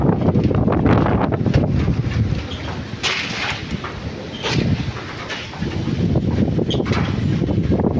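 Strong wind roaring and buffeting the microphone in heavy gusts, loud and continuous, easing briefly in the middle before surging again, outdoors while flying pigeons.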